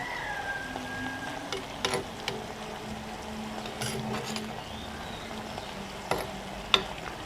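Fish peera cooks over a high flame to reduce, giving a soft, steady sizzle and crackle with occasional sharper pops and clicks of stirring, faint and close.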